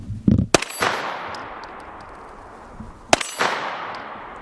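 An M17 pistol fires two sharp shots at steel gongs, each crack followed by a bright metallic ring and a lingering decaying tone, close and loud, with a pause of several seconds between hits.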